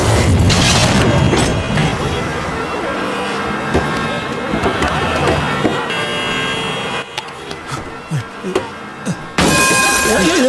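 A truck crash in a Telugu action film scene: loud shattering, splintering and smashing impacts roar at first, then fade into scattered debris clatters before a final burst of noise.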